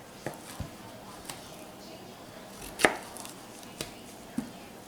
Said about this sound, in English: I'm just cutting the zucchini like you would a stir fry